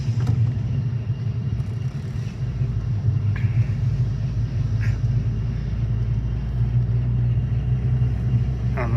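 A 2008 Volkswagen GTI with a freshly swapped engine drives along, giving a steady low engine rumble and road noise heard from inside the car throughout.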